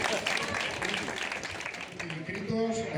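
A crowd applauds for local farmers at a tobacco and pepper competition in Jaraíz de la Vera, with steady clapping sustained over the whole stretch and a voice speaking over it.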